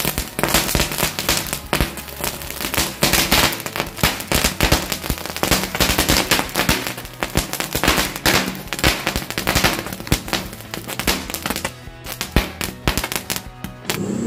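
Green Lighting firecrackers set off for a Chinese New Year celebration burst in a long, dense, loud chain of rapid cracks and pops, nearly continuous, thinning briefly near the end.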